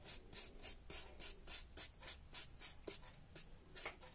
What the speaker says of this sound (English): And then using quite a stiff brush, we also just work that in.